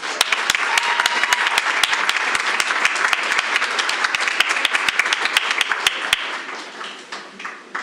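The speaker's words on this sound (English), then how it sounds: "another round of applause for our Sterling" A crowd at a school board meeting applauds a student scholar from Olympus High with dense, sustained clapping that carries on for several seconds and thins out near the end.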